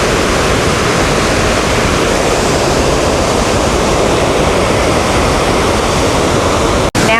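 A waterfall roars at the foot of High Falls in North Carolina, swollen after a week of rain, a loud steady wash of falling water filling the whole scene without a break.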